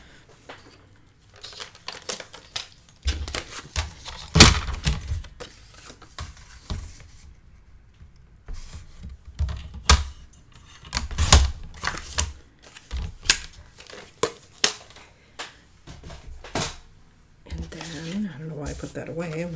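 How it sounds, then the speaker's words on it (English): Paper being cut on a trimmer for a handmade mini album gives irregular clicks, slides and crisp crinkling bursts, loud and close, with a voice speaking at times. "All right, let's cut that 5 1/4."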